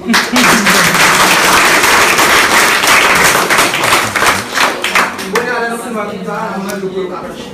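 Dense, loud applause from an audience at a school ceremony in Bas-Limbé, broad clapping sustained for about five seconds before thinning out as a voice begins to speak.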